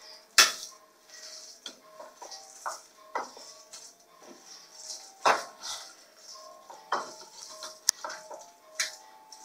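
A spoon stirs veg cutlet mixture in a bowl, with sharp metallic clinks against the rim and soft scraping strokes in an irregular rhythm, close and fairly quiet.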